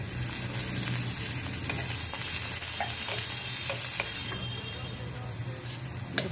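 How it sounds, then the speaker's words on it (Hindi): Chopped onions with grated ginger, garlic and green chili fry in a pan for chana dal with palak. A steady, fairly quiet sizzle runs throughout, with occasional stirring scrapes and clicks. "डाल के हम प्याज को थोड़ा सा भूनेंगे, अदरक लहसुन ग्रेटेड है, साथ में हरा मिर्चा भी डाला है"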